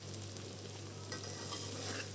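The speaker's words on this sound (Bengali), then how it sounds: "এটা এখন আমি খুব ভালো করে কষে নিচ্ছি।" Chickpeas (chola) stir-fried in a pan with green chillies, giving a steady close sizzle with faint scraping of the spoon throughout, no voices.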